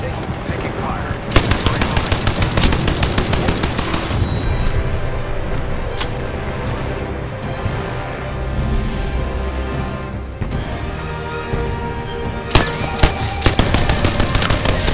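Gunfire in the battle royale game Apex Legends rattles in rapid automatic bursts, with dense volleys at the start and again near the end and quieter gaps between them. A voice speaks over the shooting.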